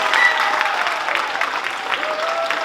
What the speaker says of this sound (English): A great big round of applause for all the actors